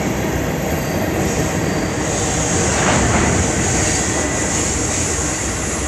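A train rumbles past steadily and loudly at close range, a broad continuous roar of rail noise that swells slightly midway and holds for several seconds with no voices.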